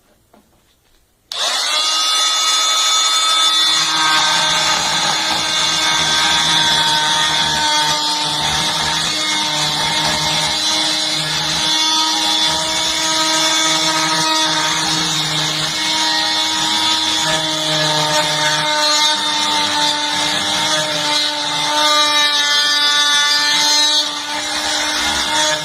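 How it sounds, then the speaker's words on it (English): Oscillating multitool fitted with a circular blade cutting across a wooden board, a loud, steady high-pitched buzzing whine that starts abruptly and runs continuously for over twenty seconds, with no talk. "I'm just going to go ahead and try doing a cut across this board using this circular one"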